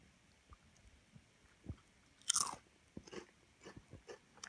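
A wasabi beef potato chip is bitten and crunched up close, with a sharp crisp bite followed by a run of softer, quick crunches while chewing. It is quiet and heard alone.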